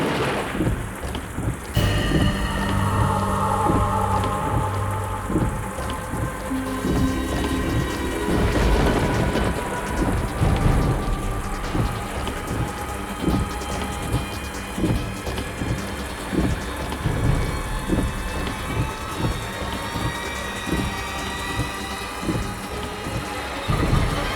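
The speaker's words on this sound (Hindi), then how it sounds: "इतनी तेज बारिश हो रही है" Heavy, steady rain pours down with repeated rolls and cracks of thunder, loud and continuous with no one talking.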